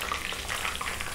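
Chicken and potatoes frying in hot oil for a butterfly chicken starter, a steady, close, loud sizzle and crackle that continues without pause and with no talk.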